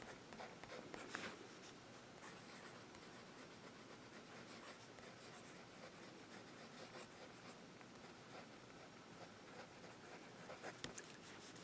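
A Lamy AL-Star fountain pen with a fine nib writes on paper, giving a faint, steady scratching and rubbing that runs the whole time in a quiet room.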